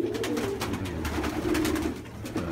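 Pigeons in a loft coo in soft, low, throaty repeated calls, close and continuous, with several birds overlapping and light rustling in the background.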